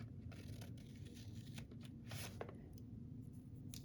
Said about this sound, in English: I'm going to flip it over and cut the ends off so that it's all even